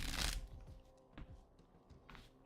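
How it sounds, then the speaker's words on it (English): Tarot cards being shuffled by hand during a reading, a loud riffling burst at the start followed by softer, scattered card slides and taps, with no one talking. "I can't shuffle."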